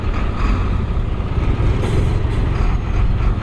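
A dump truck rumbles past at close range, a dense, loud low-frequency engine roar mixed with road and wind noise throughout.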